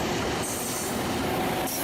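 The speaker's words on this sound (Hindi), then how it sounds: "और ये रेल कार क्रॉस कर रही है इस्लामाबाद एक्सप्रेस," A rail car on the Islamabad Express crosses close by in Pakistan, producing a loud, steady rumble of wheels and rail noise with a faint high squeal that holds through the whole stretch. Nobody speaks.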